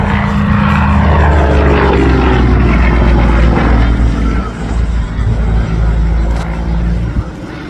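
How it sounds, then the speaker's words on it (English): An aerobatic airplane with a Russian M14 radial engine performs maneuvers at the Barrie air show, its loud propeller drone rising and falling in pitch as it passes, with faint crowd murmur underneath. "The M14 powered the everything in Russia, from electrical power generators to helicopters, and it's powered today's modern aerobatic aircraft, and what a beautiful sound"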